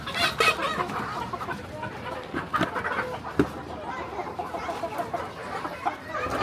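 Free-range laying hens cluck repeatedly nearby during feeding, with irregular calls and scattered rustling and knocks, fairly quiet overall.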